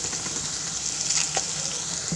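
Jackfruit seeds fry with garam masala in a pan, giving a steady, close hiss of sizzling oil with faint stirring scrapes.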